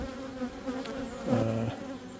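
Honeybees buzz steadily around a beehive being treated for small hive beetles, a close, continuous drone with a louder swell partway through, no talking.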